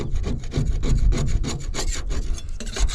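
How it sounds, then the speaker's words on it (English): Scraper dragged repeatedly across a roof to strip old material, giving rhythmic rasping strokes roughly every quarter second, close and moderately loud, with no talking. "Most of it's coming off with a scraper."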